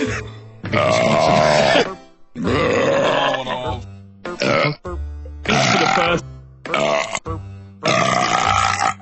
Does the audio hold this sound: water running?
no